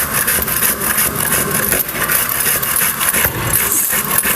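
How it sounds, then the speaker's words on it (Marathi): Carrots are grated for carrot halwa (gajar halwa), making a steady, loud, continuous rasping scrape with no pause and no voices. "गाजर आहे ना किसून घ्यायचं"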